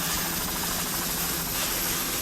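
Steady, broadband rotor and engine roar of a helicopter filming an offshore powerboat race in Key West, loud and continuous throughout with no pauses.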